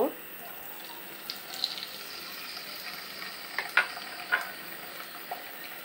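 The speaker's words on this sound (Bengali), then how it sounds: "মাছটাকে আমি হালকা একটু মরিচ আর লবণ দিয়ে মেখে নিয়েছি। এখন এটাকে আমি ভেজে নিব।" Shrimp rubbed with chili and salt frying in a pan, a faint, steady sizzle with scattered small pops and crackles, close but quiet.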